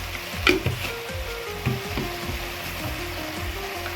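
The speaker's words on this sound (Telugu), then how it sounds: "పాలకూర ఇలా ఆయిల్లో మగ్గింది కదా, ఇప్పుడు అల్లం పేస్ట్ వేసుకుందాం 1 స్పూను" Spinach frying in oil with a spoonful of ginger paste going into the pan for palakura curry, a steady close sizzle with a couple of brief clatters near the start.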